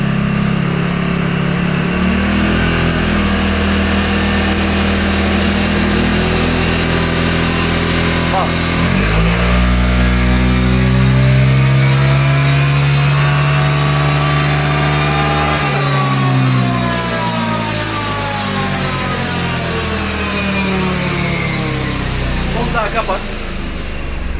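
A Vespa scooter engine with a standard exhaust runs continuously and revs up and down in long sweeping rises and falls to about 3000 rpm, loud and near, with a voice talking over it.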